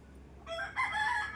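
Backyard chickens and a rooster call out in chorus nearby, a loud crow rising over busy clucking for about a second, with no talk.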